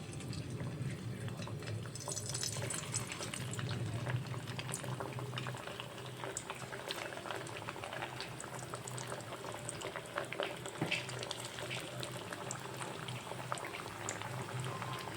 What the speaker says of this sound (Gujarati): હવે એક એક કરીને હું કટલેસ તેલમાં મૂકતી જઈશ